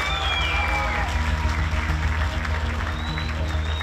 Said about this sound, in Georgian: კიდევ ერთხელ აპლოდისმენტებს თქვით